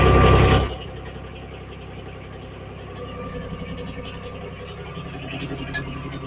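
A tractor engine idles steadily at close range with a low, even mechanical drone, following a short louder burst at the start.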